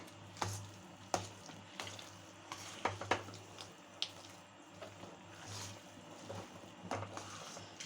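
Wheat flour halwa stirred in a pan with a spatula, producing soft, irregular scraping and squelching strokes at close range amid a faint background hiss.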